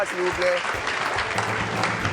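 Audience applause at a French live show, a short burst of clapping mixed with voices and a host speaking over it.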